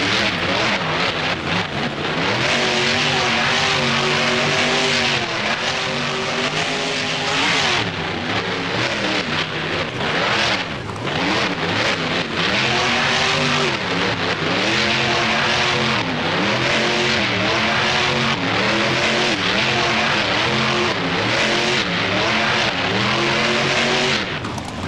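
A monster truck in the BeamNG driving game revs its engine hard through continuous donuts at a Soldier Field freestyle, a loud sustained roar with rising and falling pitch sweeps and no pauses.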